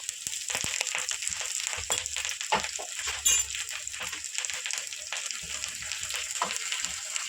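Onion and curry leaves sizzle in a pan for Andhra-style gongura dal, a continuous close hiss with small crackles and a few faint metallic clinks, no voices.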